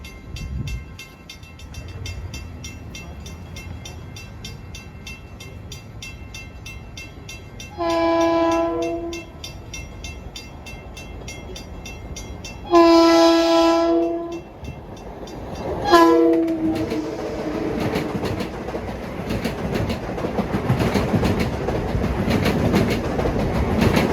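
A Long Island Rail Road diesel commuter train from Grand Central to Brentwood approaches Bethpage station, sounding three loud horn blasts over a steady, rising rumble of engine and rolling wheels.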